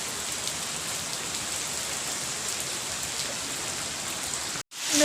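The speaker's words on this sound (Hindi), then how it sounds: "कितनी बारिश हो रही है ना।" Heavy mountain rain pounding a car while driving, a dense steady wash of drops on the body and windshield, loud and unbroken until a brief cutout near the end.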